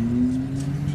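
A white Dodge Challenger sports car drives along the coast road near Malibu, its engine holding a steady low hum with road noise from inside the cabin, close and continuous.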